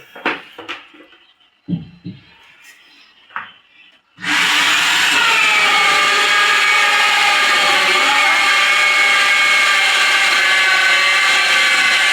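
A power tool cuts during a light fitting installation: a few faint knocks, then a loud, steady, harsh cutting whine starts abruptly and runs without a break to the end, with no talking.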